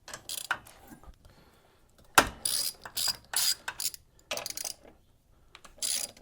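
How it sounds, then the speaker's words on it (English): Bursts of ratchet clicking from a 12mm socket loosening the caliper bolt on the rear brake of a Harley-Davidson M8 Softail Low Rider ST, in short irregular runs with pauses between them, close up and with no talking. "Take your 12mm socket there. Take that bolt out."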